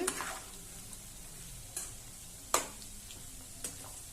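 Egg pieces frying on a low flame make a quiet, steady sizzle, punctuated by a few sharp clicks of a spatula or spoon turning them. No one speaks.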